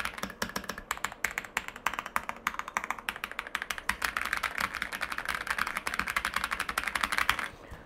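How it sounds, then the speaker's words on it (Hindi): Fast, clicky typing on an Epomaker KIIBOOM Phantom 64 mechanical keyboard, close up, with dense irregular keystrokes building slightly louder toward the end. "तो कीबोर्ड काफ़ी ज़्यादा लाउड जो है वो यहाँ पे मिल रहा है"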